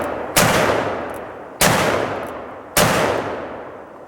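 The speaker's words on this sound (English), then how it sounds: "last shots of the day." A Colt Walker black-powder revolver fires three loud, sharp shots spaced about a second apart, each followed by a long fading echo.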